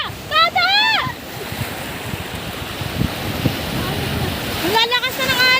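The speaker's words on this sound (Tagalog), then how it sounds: "Lalakas na ng alon." Strong ocean waves at a beach in Batangas roar and wash steadily as a continuous surf noise, with excited voices and shouts heard at the start and end.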